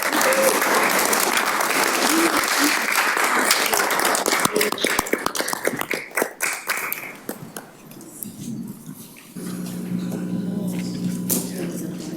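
Audience at a town council meeting gives a round of applause, dense clapping for several seconds that thins into scattered claps, followed by low murmuring and a steady hum from the room.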